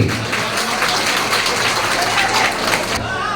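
Steady applause from an audience at a Trinamool Congress felicitation and workers' meeting in a college hall, a continuous wash of many hands clapping at moderate loudness, easing off near the end.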